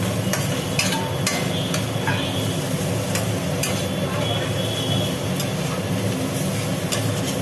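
Onion and poppy seed paste frying in mustard oil in a pan, giving a steady close sizzle with faint stirring scrapes throughout, no talk.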